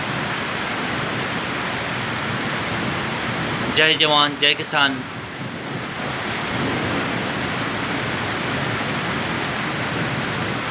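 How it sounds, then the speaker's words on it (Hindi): Steady heavy rain hisses throughout over farmland, loud and constant, with a voice briefly speaking over it partway through. "और तेज बारिश होती हुई"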